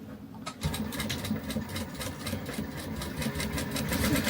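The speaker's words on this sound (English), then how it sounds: "we're just going to top stitch along the bottom" A sewing machine top stitching a fabric card holder, a fast steady mechanical whir and clatter starting after a short quiet moment, close and continuous, growing slightly louder toward the end.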